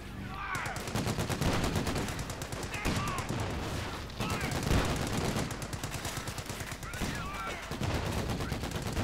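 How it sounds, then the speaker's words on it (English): Rapid rifle and machine-gun fire rattles continuously in a Company of Heroes 2 battle, dense bursts repeating throughout over game effects with occasional voices in the mix. "Lots of shooting now."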